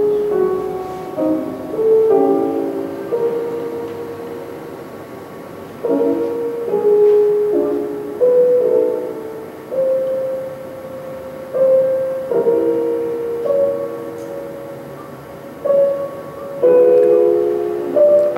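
A recording of Franz Liszt piano music plays with no talking: a flowing run of sustained notes and chords, moderately loud, with phrases rising and falling in swells over about eighteen seconds.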